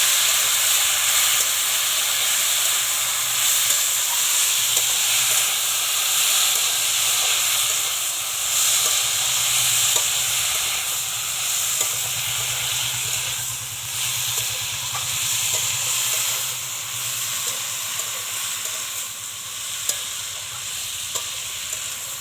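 Pumpkin greens frying in a pan as spice-washing water is poured in, giving a steady loud sizzle and steamy hiss throughout with faint stirring scrapes.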